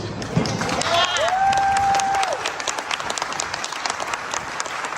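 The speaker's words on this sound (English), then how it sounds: "So let's give another round of applause." Applause from diners at a Republican Lincoln Reagan dinner, a burst of clapping and cheering with a whistle and a shout rising above it, then thinning into scattered claps.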